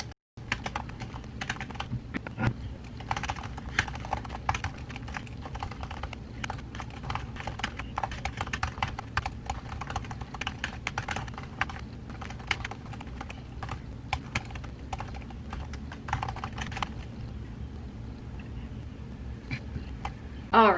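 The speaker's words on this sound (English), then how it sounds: "So I'm gonna start typing that and see what happens." Rapid, irregular keystrokes clatter on a computer keyboard while a post is typed, dense bursts of clicking running close and steady for most of the stretch before tapering off near the end.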